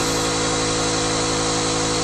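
A small air compressor runs steadily at close range, a loud, constant buzzing hum with no breaks for the whole two seconds.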